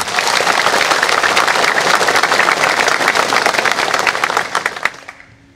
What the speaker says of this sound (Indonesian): Tepuk tangan lo kalian.